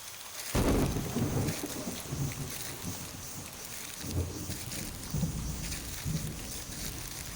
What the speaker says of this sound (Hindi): बारिश तेज होती जा रही थी